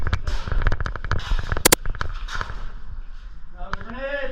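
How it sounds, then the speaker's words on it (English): An airsoft grenade going off during a Christmas airsoft game outdoors: a rapid burst of sharp crackling pops, loud and close, mixed with excited shouting voices. "That was a grenade!"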